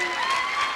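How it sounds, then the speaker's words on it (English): An audience applauds a performer's mother at a costume show's curtain call and finale, a short burst of steady, dense clapping with a faint murmur of crowd voices underneath. "Round of applause for my mom"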